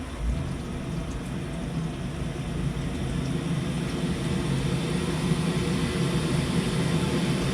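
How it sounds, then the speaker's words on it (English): A gas boiler fires at full output with a steady, close, low roar and broadband rumble that holds constant without pauses. "Turn it on and we get the boiler to kick into maximum."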